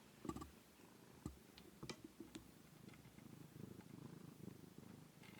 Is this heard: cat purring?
yes